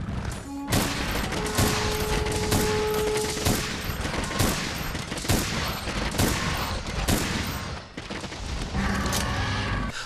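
A heavy bowgun in Monster Hunter World fires elemental and pierce ammo in rapid bursts. The loud, dense volleys of booming shots go on almost without a break, with mechanical clacks and a short lull near the end.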